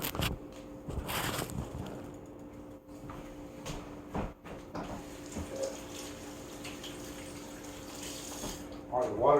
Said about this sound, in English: And now let's take it over here and rinse it.